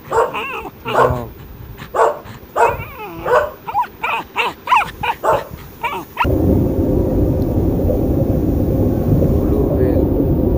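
A dog barks in a quick run of sharp, close barks with a whimpering edge, which then stops abruptly and leaves a steady broadband noise running to the end.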